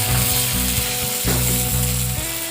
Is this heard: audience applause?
no